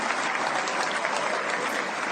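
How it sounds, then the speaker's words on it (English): Sustained applause from a hall crowd greeting Judah Maccabee's entrance in a radio drama, a dense, steady wash of clapping that runs unbroken throughout. "He's being applauded by friends, supporters, and even some members of the media."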